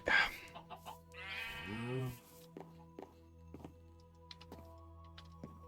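A sheep bleats in Minecraft, one short wavering bleat near the start followed by scattered in-game thunks and footsteps over a low steady background hum.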